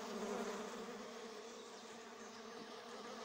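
A dense swarm of stingless pegong bees buzzes continuously around their hive on a farm, a steady, close, droning hum throughout with no talking.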